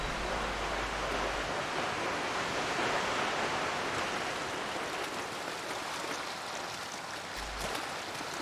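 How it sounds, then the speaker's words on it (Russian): Steady rushing water fills the scene from the video game Lost Ember: surf and water tumbling from an icefall into a river. A dense, continuous wash of noise holds at an even level throughout, with no voices. "Ну, шум прибоя. Там вода где-то"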